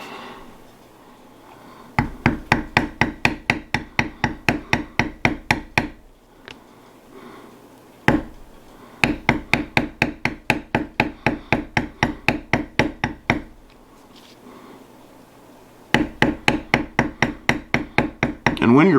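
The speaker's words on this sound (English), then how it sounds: "First I'm going to bevel the border, and then I'll start on vines and leaves and everything else." Beveling the border of a leather piece with a tooling beveler struck by a mallet: three runs of rapid, steady, close-up taps separated by short pauses, with no talking.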